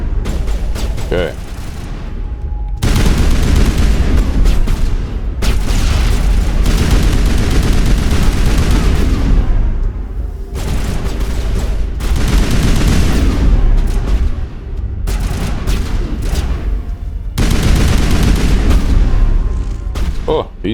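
Heavy chemical-round gunfire in the Mass Effect video game, long loud sustained bursts of firing with booming impacts, separated by short gaps, with a voice talking over it.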